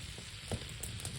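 A steak with mushroom sauce sizzles in a pan at a hunting camp in a hot tent, a faint, steady hiss with a few soft crackles over a short moment.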